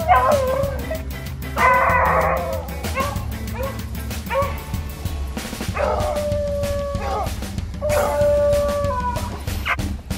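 A pack of about ten hounds bays and howls at a hunting proving ground on a cold day, overlapping long drawn-out howls, yips and barks continuing throughout, fairly close and loud.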